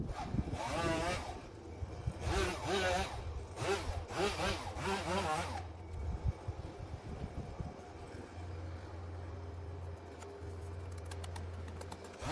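Body filler on a Fiat 500 is sanded by hand in repeated rasping strokes, close and steady, in several bursts followed by a quieter stretch with a low hum.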